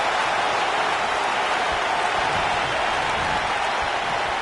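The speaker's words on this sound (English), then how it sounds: "I don't remember the last time I heard a more passionate crowd than the one we have here tonight." Roaring arena crowd in a wrestling video game, a dense, steady wall of cheering and applause-like noise that stays loud and constant throughout with no single voices standing out.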